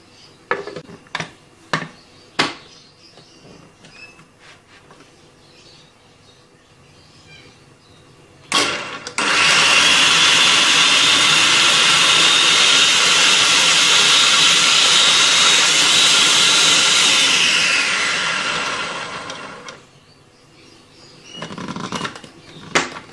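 An electric chopper whirs loudly for about ten seconds, blending green chillies, a small onion and fresh coriander, with brief clattering taps before and after.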